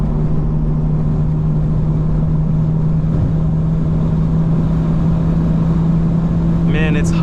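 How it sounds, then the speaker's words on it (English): A 2025 BMW M4 Competition xDrive engine heard from inside the car, a steady loud intake drone holding a constant pitch throughout with no clear revving. "it sounds so clean. You can hear the intake"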